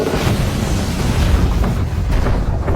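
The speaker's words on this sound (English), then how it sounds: "Ronnie unleashes a massive explosion." Loud, dense booming blasts that roll on without a break, a massive explosion rumble in a film scene, filling the whole stretch with no speech.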